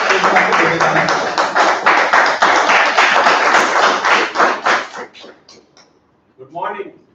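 A room full of people at a Toastmasters club meeting clap loudly and steadily for several seconds, then the applause thins out and stops, followed by a brief burst of movement or voice.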